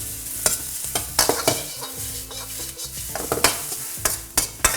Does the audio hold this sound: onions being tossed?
yes